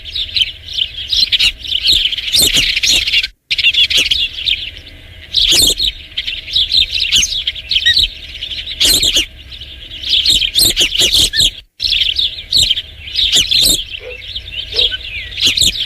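An osprey calls from its nest at Dunrovin Ranch, giving loud, continuous shrill chirps and piping cries close by, broken by two brief gaps, with no speech.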